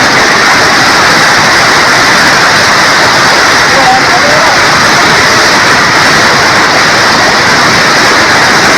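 Fast-flowing water of the Sutlej river rushes in a loud, continuous broadband roar, close and unbroken throughout, with no voices standing out above it.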